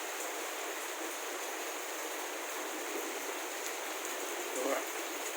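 Steady rain falling outdoors after a windy storm has died down, an even close hiss throughout with a brief faint voice near the end.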